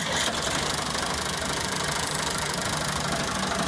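A 1979 Ford 4600 tractor, England-made, idles steadily with a continuous knocking diesel rumble, close and fairly loud with no talk over it.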